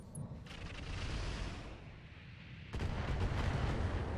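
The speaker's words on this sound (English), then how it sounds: "Those missiles are actually doing quite a lot" LRM missile fire striking a turret in RogueTech, a rumbling barrage of low booms and blasts that swells, eases, then surges louder near the end, fairly faint overall.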